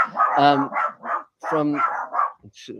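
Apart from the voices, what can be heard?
dogs barking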